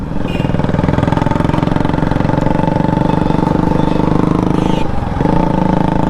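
A Yamaha RX135 motorcycle with a cut, holed silencer runs close and loud, its exhaust a steady rapid two-stroke putter with a brief dip before settling back to the same throbbing drone.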